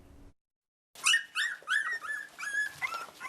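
Therapy dogs at a county 911 dispatch center give a string of high whimpers and yips, close and distinct, in short rhythmic bursts after a brief silence.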